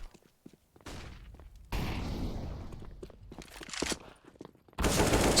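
Rapid automatic rifle sprays in Counter-Strike on the Dust 2 map, sharp bursts of gunfire in several clusters separated by brief gaps, loud and close, without speech.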